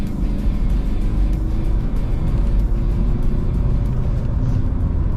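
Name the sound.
diesel van accelerating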